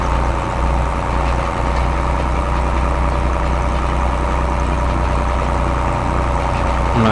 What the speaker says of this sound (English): When I say quick, I mean this tractor don't go that fast